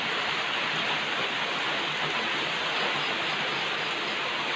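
Steady rain falls in a dense, even hiss that holds unbroken throughout, close and fairly loud, with no talk.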